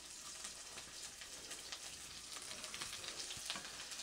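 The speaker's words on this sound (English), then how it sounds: "And you can hear it sizzling away already." Onions sizzle steadily in a hot pan, a soft continuous crackle with faint pops, heard close and without any voices.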